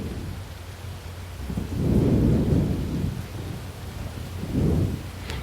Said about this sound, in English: Oh my god, really bad lightning strikes.